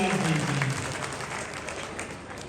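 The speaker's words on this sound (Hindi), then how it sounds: "जोरदार तालियां बजा करके अपना आशीर्वाद दीजिए।" Crowd at a Haryana political rally applauds loudly, a broad sustained roar of clapping with a brief voice heard near the start, gradually easing.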